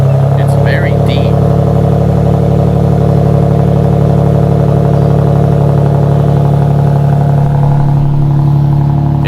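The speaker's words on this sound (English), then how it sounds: "It's a very deep exhaust sound" Truck engine just after a cold start, idling with a deep, loud, steady exhaust rumble close by, a few brief clicks near the start and a faint shift toward the end.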